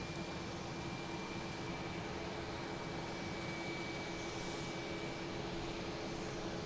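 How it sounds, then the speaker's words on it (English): Steady broadband jet roar of an airplane flying overhead near Boston Logan airport, a constant wash of engine noise with a faint tonal whine throughout and no talking. "One did just fly over us as well."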